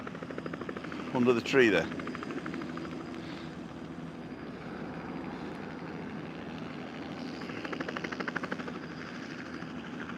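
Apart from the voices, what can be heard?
helicopter taking off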